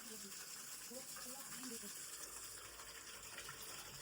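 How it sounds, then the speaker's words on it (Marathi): Water runs from a pipe into a household water tank, a continuous gushing splash heard steadily for a few seconds, fairly faint, with no speech over it. "आता पाणी आले, आता मला पाणी भरावं लागेल."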